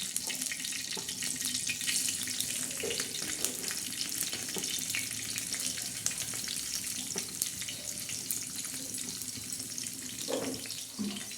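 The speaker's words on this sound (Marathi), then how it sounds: "तर त्याच्यात आपण कांदा टाकणार आहोत" Onion fries on a hot griddle with a steady, close crackling sizzle, interrupted by occasional soft clinks and scraping as it is stirred; no talk.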